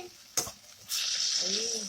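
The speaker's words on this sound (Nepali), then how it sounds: "त्यसलाई मैले हल्का भुट्छु" Shredded cabbage, carrot and capsicum lightly fry in a pan for Thakali-style cheesy chowmein, with a spatula clack followed by a steady, close, bright sizzle.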